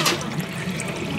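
A water dispenser at an Ichiran ramen restaurant in Osaka pours a brief, close, steady gushing stream, likely into a cup, with no talk over it.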